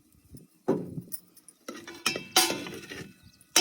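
A spoon clinks and scrapes against a pot while cooked rice is stirred with jaggery syrup, in several sharp, irregular metallic knocks separated by short quiet gaps, close by and with no talking.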